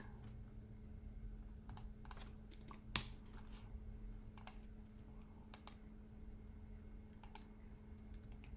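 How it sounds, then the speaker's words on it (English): Keys tapped on a computer keyboard in short irregular bursts of quiet clicks, with one sharper keystroke standing out over a faint steady background hum. "just type peace with a exclamation mark"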